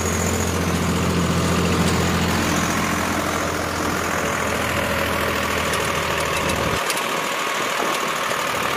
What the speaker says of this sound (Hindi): केवल 50 आरपीएम तोड़ के चल रहा है ट्रैक्टर